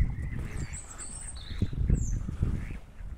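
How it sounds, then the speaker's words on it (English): A white duck quacking at Ogden Reservoir in Halifax, a few short nasal squawks close by over quiet outdoor background, with faint higher bird calls. "It's a white duck."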